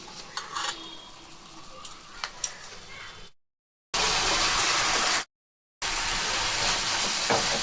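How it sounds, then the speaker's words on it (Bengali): Tomato fries in oil with turmeric and salt: a soft stirring scrape with small clicks first, then loud, bright, steady sizzling in two bursts separated by short silences. "টমেটোটা একটু ভাজা হয়ে যাক"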